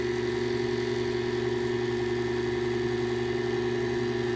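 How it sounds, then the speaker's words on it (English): Electric mixer running on low speed through madeleine batter, a steady continuous motor hum with even tonal drone and no pauses, close and alone with no talk. "We're going to mix this on low speed to begin with,"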